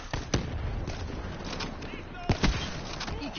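Gunfire in a first-person shooter video game, with several sharp shots scattered across the stretch, including a close pair of louder bangs, heard under a player's excited speech and faint game sounds.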